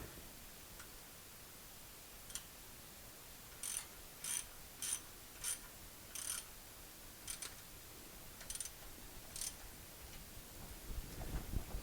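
Ratchet tightening bolts during a thermostat replacement, a series of crisp clicking strokes in short bursts, close but quiet against a low background hiss.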